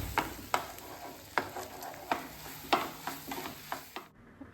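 Egg scrambled in ghee in a pan beside roasted banana, a spatula scraping and stirring in repeated sharp strokes over a soft steady sizzle, close and clear, before stopping abruptly.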